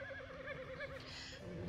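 A horse whinnies repeatedly in the racing and breeding game Rival Stars Horse Racing, a string of wavering neighs sounding close and clear over a steady game background.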